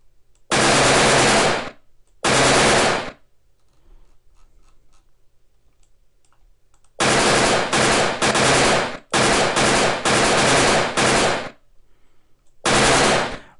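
Gunshot sound effects from a character firing a weapon in a Unity 3D game with a bullet shell eject system, loud clustered bursts of rapid fire separated by short silent gaps, with no talking.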